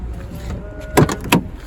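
Door of a Suzuki Carry pickup being worked, giving two sharp clunks about a third of a second apart over a low idling hum, close by and fairly loud.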